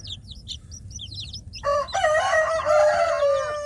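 Young Indonesian village chicks chirp in quick high peeps, then a louder fowl call with a rooster-like crow takes over, close and sustained.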